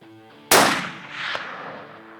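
A single loud rifle shot fired at a bull elk during a hunt, a sharp blast followed by a long rolling echo that fades slowly, with no talking.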